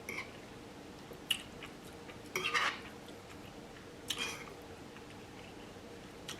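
A spoon stirs sausage and rice with butter sauce in a dish, giving a few sparse metallic clinks and soft scrapes against a quiet background.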